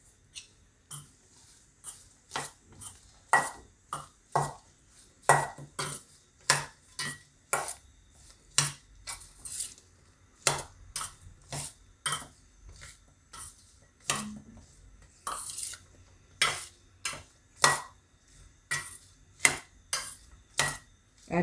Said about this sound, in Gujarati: આ રીતે આપણે બધા મસાલા મિક્સ કરી લેવાના.